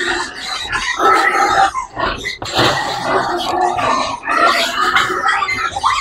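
Piglets fed Pigrolac Premium starter feed grunt, squeal and oink at feeding time. The sound is loud, close and busy, a steady overlapping chorus with brief dips.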